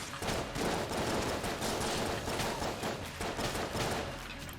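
Gunfire from a weapon in the video game Enter the Gungeon: a dense, continuous volley of rapid shots that keeps up steadily and loudly for several seconds.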